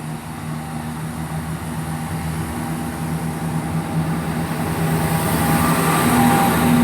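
British Rail Class 170 diesel multiple unit 170-202 pulling away from Severn Tunnel Junction station, a steady low engine drone with rail rumble that grows gradually louder and brighter over about seven seconds, no voices.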